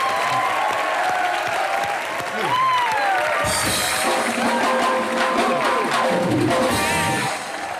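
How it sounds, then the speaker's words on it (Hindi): Audience applause for comedian Sunil Pal on the set of Comedy Nights With Kapil, a continuous rush of clapping with shouting voices and whistle-like tones rising above it, swelling brighter midway and staying loud throughout. "ये जोरदार तालियां एक बार मिस्टर सुनील पॉल के लिए।"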